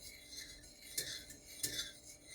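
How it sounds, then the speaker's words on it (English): A spoon stirs a cinnamon and ginger mix in a cup or bowl, giving faint scraping clinks, with two clearer strikes among soft rubbing sounds. "Let's stir that up real good."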